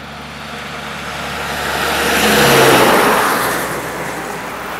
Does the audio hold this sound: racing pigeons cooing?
no